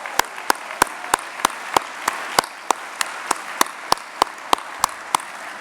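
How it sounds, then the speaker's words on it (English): Applause at a Boys & Girls Clubs alumni hall of fame event for club staff members, heard as sharp, evenly spaced claps close by over a softer background of crowd clapping in a large room. "Let's have a big round of applause to all the staff members who are here with us this evening."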